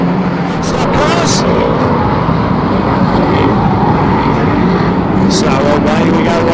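Saloon stock cars race around a King's Lynn oval at a championship night, their engines making a loud, continuous roar that fills the whole stretch without a break.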